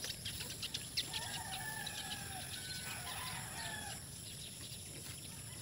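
Farmyard sounds with soft low clucks from a mother hen and a few crowing calls, moderately distant over steady background noise and faint chirps.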